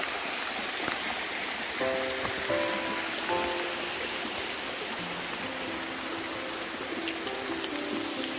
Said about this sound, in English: It's still raining a little bit, but not too heavy.